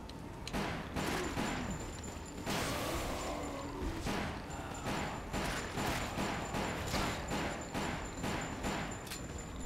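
Gunfire in the shooting game Resident Evil: The Umbrella Chronicles: rapid, repeated sharp shots in quick bursts across the stretch, with a brief shotgun-like blast, fairly loud and close, with no talk.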